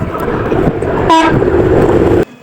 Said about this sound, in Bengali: এটা হলো ঢাকা থেকে ছেড়ে আসা খুলনাগামী ট্রেন